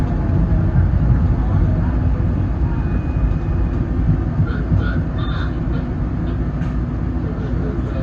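A Market-Frankford Line subway train in Philadelphia rumbles loudly and steadily at close range, with a constant broadband roar and faint higher whines and squeals on top.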